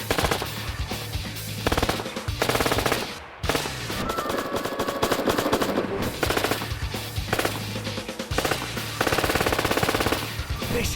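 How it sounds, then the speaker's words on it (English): Rapid bursts of PPSh submachine gun fire aimed at mannequins in a shooting game, loud and dense, with several sustained volleys separated by brief pauses, no talk. "just use your PPSH to eliminate the threat"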